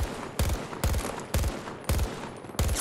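Rapid bursts of gunfire from the video game Battlefield 2042 crack out five times in a steady rhythm, each volley loud and close with a short ringing tail between shots.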